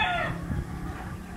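A gamefowl rooster, a Claret White Boston stag on a gamefarm, gives a crow that trails off, followed by low clucking and farm-animal murmurs at close range.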